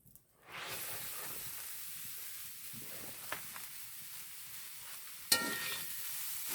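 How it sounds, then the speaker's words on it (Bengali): Grated carrot hits hot oil in a wok with a sudden burst of sizzling, settling into a steady close frying hiss, with a brief louder stir or clatter near the end. "কিছুটা পরিমাণ কড়াইতে তেল দিয়েছি। এবার গাজর কোড়াগুলো তুলে দিচ্ছি।"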